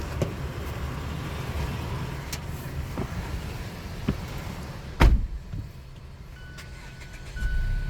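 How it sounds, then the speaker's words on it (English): A Mazda CX-5 engine idles with a constant low hum and airy air-conditioning blowing, broken by a few clicks and a sharp thump like a door or latch. "sometimes you hear my car on, it's because of the AC blowing on this phone"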